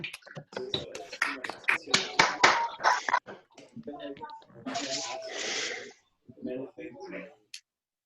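Scattered clapping and snapping from several people on an online call for an academic talk, irregular bursts of varying loudness with brief gaps and a few breathy sounds, mixed with some speech.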